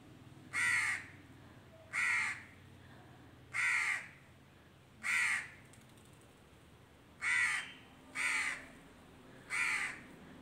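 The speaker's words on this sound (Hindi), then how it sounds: "ये कौवा मेरे साथ साथ बोल रहा है" A crow caws seven times in an even rhythm, each call short and clear against a quiet background.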